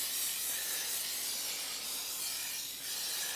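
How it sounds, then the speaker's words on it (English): Cooking oil sprayed onto chicken wings to crisp them up, a steady close hiss lasting several seconds without a break and with no voices. "spray the other side down a little bit."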